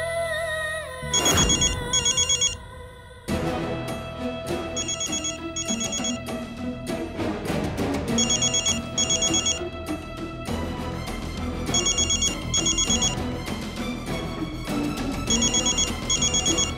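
A telephone bell rings in repeated double bursts over a steady music bed, recurring about every three to four seconds from a TV drama scene.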